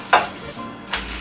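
Omelet cooking in a frying pan, a close hiss of frying broken by two sharp scraping or clattering bursts from the pan or utensil.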